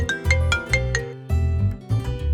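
Repeating electronic phone ringtone melody for an incoming call, a looping tune of bright stepped tones over steady lower notes, loud and clear with no talking.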